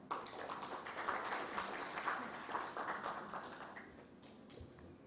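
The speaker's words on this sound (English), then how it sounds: "Please give a big round of applause." Conference audience applauding as panelists come on stage at a plenary session, a faint, steady patter of many hands clapping from a distance that thins out after about four seconds.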